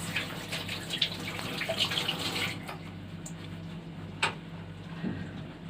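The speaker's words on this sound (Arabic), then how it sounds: "اغسل ايدي بس" A kitchen tap runs while hands are washed, a steady close splash of water that stops partway through, followed by a few faint clicks and knocks.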